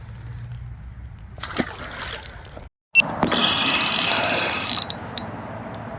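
A brief splash and slosh of water up close as a caught fish is released, followed by a dull rushing wash and some handling noise.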